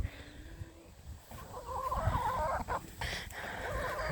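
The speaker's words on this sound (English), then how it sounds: "Look at all of the chickens." A flock of farm chickens clucks, quiet at first and then swelling into a louder, busier stretch of overlapping calls with brief pauses.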